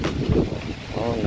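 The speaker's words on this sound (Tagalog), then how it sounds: "Nakapakalakas ng hangin." Strong wind buffets the microphone in a rice field, a continuous rough roar that nearly covers someone speaking underneath.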